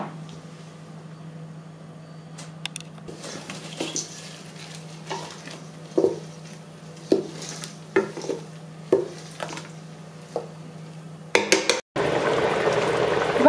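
Moroccan harira ingredients with olive oil being mixed in a pot before cooking, a series of close clinks and stirring scrapes over a low steady hum, ending in a sudden louder rush of liquid or sizzle.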